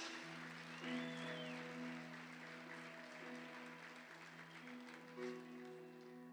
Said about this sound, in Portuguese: mais uma vez aplauda o nome dEle